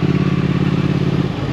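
Close, loud rumble of a Triumph Thruxton 1200R motorcycle engine running at a steady pulsing beat, easing slightly at the very end, with no talking.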